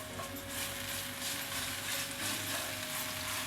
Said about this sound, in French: je vais venir rajouter l'ail pressé et je vais le laisser cuire quelques minutes